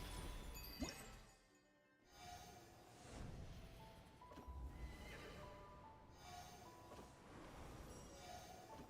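A horse in a video game neighs and whinnies faintly, with soft hoof clops and light clattering scattered through the quiet background.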